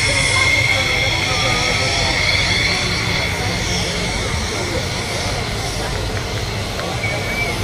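A fixed-wing aircraft performing at the Radom air show in 2023 gives off a loud, continuous roaring engine sound with an odd whining tone, steady for several seconds.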